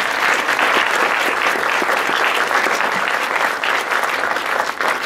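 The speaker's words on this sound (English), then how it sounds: "I think you deserve very much a round of applause." Audience applause after a planetarium show, steady dense clapping from a crowd throughout, close and fairly loud with no speech on top.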